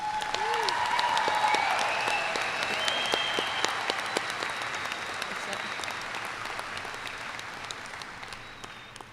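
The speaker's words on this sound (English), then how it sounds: "Please give these students a round of applause." Audience applause for graduating students at a school district ceremony, a broad crowd of clapping hands that starts strong and slowly tapers off, with a few whistles and cheers rising above it early on.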